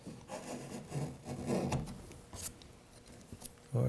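A chisel pares wood at a dovetail pin board in quiet, uneven scraping and shaving strokes close by, with small taps and soft knocks between cuts and no speech.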